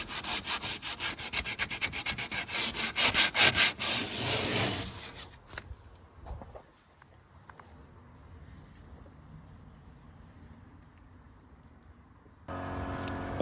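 Rapid, rasping back-and-forth strokes of hand sanding on wood, loud and close for several seconds, then fading into a quieter, near-silent stretch.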